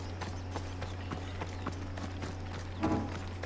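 A horse in Assassin's Creed Odyssey gallops back after being whistled for, its hooves making a steady run of clip-clop beats at moderate distance over a constant low game hum, with a brief louder thump near the end.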